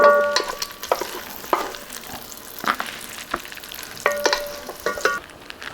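Bacon frying in a pan for Southern cabbage and potatoes, a steady close crackle with scattered sharp pops and utensil clinks, no voices.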